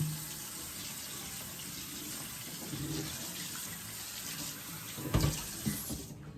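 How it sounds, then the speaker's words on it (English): Tap water runs steadily to rinse a cast iron pan in a sink, a continuous broadband splash that swells into a few louder gushes near the end before cutting off. "I'm just gonna rinse it off."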